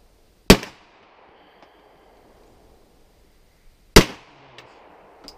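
Two sharp, loud real gunshots at a shooting range, each a single crack with a short ringing tail, separated by a few seconds of near silence.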